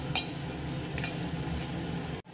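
Garlic cloves fry with a constant soft crackling sizzle in a pan roasting coconut, punctuated by a few light metallic taps of a spoon, ending with a brief cut.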